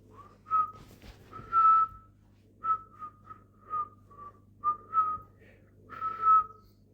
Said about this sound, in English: I was just trying to whistle that tune that appears later on in the episode